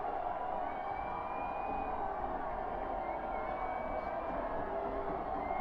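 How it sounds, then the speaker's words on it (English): A football crowd at a high school game between Preston and Bonneville gives off a continuous, distant roar of mixed voices, steady and unbroken throughout, with no single cheers standing out. "the crowd making noise"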